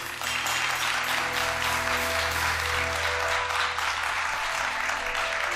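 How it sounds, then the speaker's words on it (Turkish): A studio audience on a Turkish daytime talk show applauds as a female guest is sent off, dense continuous clapping that stays loud and even from start to finish. "Alkışlarla uğurluyoruz Halide Hanım'ı"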